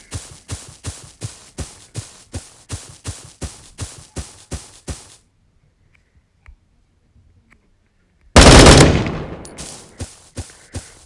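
Rapid bursts of AK-12 rifle fire in a first-person shooter video game: a steady string of about a dozen sharp, evenly spaced shots, a pause of near silence, then a loud blast followed by more single shots.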